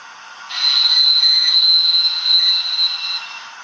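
A model train sound decoder gives a thin, high, steady brake squeal over a soft hiss, held for about three seconds before easing off, close and clear.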